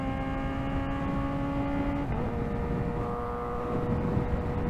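A 2024 Kawasaki Ninja ZX-4RR drones at about half throttle while riding, a steady high-pitched engine whine with a brief pitch dip midway, close and unbroken with no voices.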